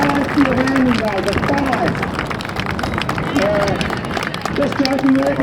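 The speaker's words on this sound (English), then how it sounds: "Round of applause to Dave." A crowd gathered at an RAAF 100 Squadron farewell for a CT-4 trainer aircraft claps steadily for pilot Dave, dense continuous applause with murmuring voices running underneath throughout.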